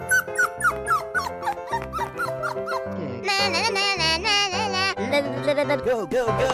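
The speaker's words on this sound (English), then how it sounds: "Dog." A dog in an animated children's animal transformation cartoon, with a run of short squeaky yips and whimpers over music, followed by longer tonal cries.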